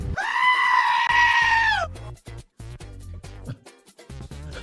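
A goat lets out a loud, drawn-out bleat lasting nearly two seconds, followed by choppy, broken sounds and low rumbling.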